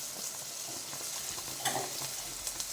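Onions sautéing with a pinch of salt in a traditional clay pot while being stirred, a steady soft sizzle with occasional scraping stirs and a louder clatter near the middle, close and alone without talk.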